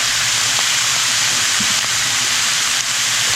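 Steak bites sizzle and brown on a Blackstone griddle, a loud, steady, close hiss with faint pops throughout.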